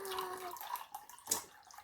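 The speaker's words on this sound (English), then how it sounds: "we're gonna pour the water in a cup" Water is poured into a cup for a rainbow science experiment, a faint, brief trickle with a rising tone and a small splash near the end, heard close and quiet.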